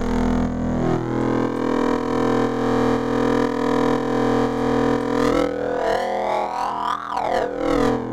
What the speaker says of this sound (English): the P1 and P2 control the screaming distortion or the frequency